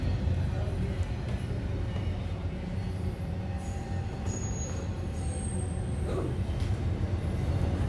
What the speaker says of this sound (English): Now, the sound effect that you're hearing is not a sound effect. It's actually a train going by.